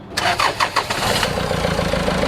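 A Toyota 1GD diesel engine swapped into a Hummer H3 cranks with a few quick starter bursts, catches, and settles into a steady, close pickup-truck-like idle.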